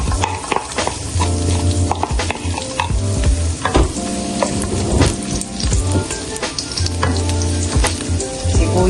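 Garlic sizzles loudly in hot canola oil in a pan while being stirred, a close, continuous crackling fry with scraping and clattering from the utensil.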